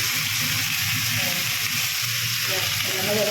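Radish greens fry in a pan, giving a steady, loud sizzle with some watery crackle and stirring throughout.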